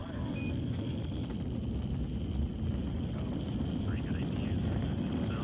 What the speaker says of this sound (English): We have liftoff for intercept mission.